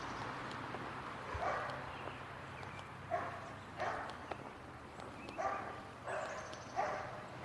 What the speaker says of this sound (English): Looks like one dog's not agreeing with the other.